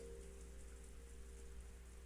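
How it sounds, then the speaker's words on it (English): Soft, steady patter of rain with a low hum underneath, faint and continuous throughout. "It was raining and windy."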